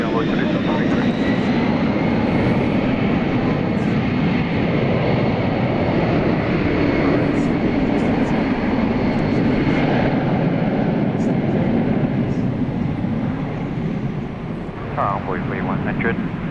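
An airplane takes off at night from runway 8 left at DFW Airport, a loud continuous jet engine roar sustained throughout, with faint radio chatter mixed in.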